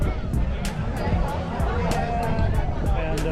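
Steady crowd babble fills the deck of a whale-watching cruise, a dense wash of overlapping voices with faint clinks and taps recurring above it, even in loudness throughout.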